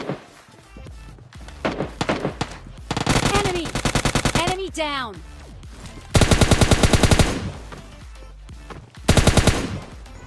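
Rapid bursts of automatic gunfire from a shooting video game, loud and close, broken by short pauses, with thumps and other in-game effects between volleys.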